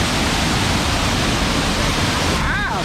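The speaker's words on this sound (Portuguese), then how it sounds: "tomando banho na Cachoeira da Pedra Furada" The Pedra Furada waterfall in the Amazonas forest roars in a steady, loud, unbroken rush of water, with a faint voice surfacing near the end.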